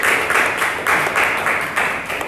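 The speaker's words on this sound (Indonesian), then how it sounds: "Oke, tepuk tangan untuk kelompok 3." A classroom group claps together for the third student group, with rhythmic, fairly loud bursts of clapping that rise and fade several times over a couple of seconds.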